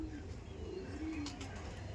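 Andhra pigeons coo in low, rolling calls at close range, several birds layered over a busy background murmur, with a few faint chirps near the end.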